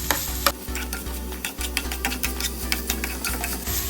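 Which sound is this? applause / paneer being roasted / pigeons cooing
paneer being roasted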